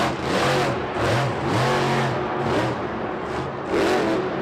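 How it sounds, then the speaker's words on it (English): A Monster Jam monster truck engine at an arena event in Houston revs in repeated surges and rough sputters, loud and continuous throughout, with the motor sounding off as if having trouble. "Yeah, the truck doesn't sound really the same as it did at the beginning of the run."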